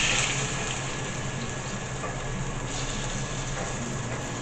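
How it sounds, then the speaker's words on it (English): Shrimp frying in a hot pan gives a loud, steady, broadband sizzle that holds evenly throughout, with no talking over it. "Sounds like a fish fry."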